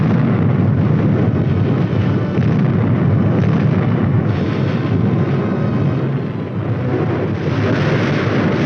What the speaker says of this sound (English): At the Artillery Fire Direction Center, the firing data is prepared and the guns respond.